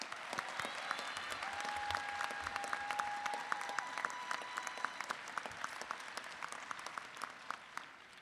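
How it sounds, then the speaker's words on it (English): Quiet, distant applause from an audience at a nursing commencement ceremony, a continuous patter of many hands with sharper individual claps standing out and a brief whistle or cheer early on. "Let's give them a round of applause."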